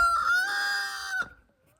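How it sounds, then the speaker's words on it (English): A rooster crows once, a loud drawn-out call that rises and holds before breaking off, followed by brief quiet. "Them roosters got a lot to crow about, don't they?"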